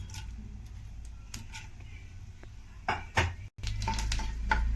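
A spoon scrapes and clinks against a pan while lentils, split chickpeas and peanuts are stirred for upma, with irregular metallic knocks and a brief louder clatter midway, no talk.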